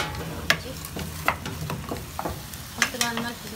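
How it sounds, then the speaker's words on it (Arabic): Okra sautéing in ghee or butter in a pan, a close sizzle broken by several sharp scrapes and clanks of stirring, with no voices. "هنحط الباميه ماشي، نديها تشويحه بعد السمنه طبعا يا جدعان او بعد الزبده"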